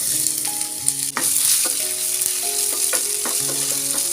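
Steady loud sizzling of onions frying in hot oil, a constant crackling hiss close up, with faint clinks of a utensil underneath.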